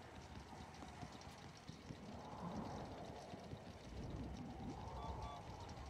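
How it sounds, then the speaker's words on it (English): Train rolling along inside the Mario+Rabbids: Sparks of Hope video game, a soft, steady rumble with faint repetitive clatter that runs continuously at low volume, with no talking over it. "Got the train rolling again."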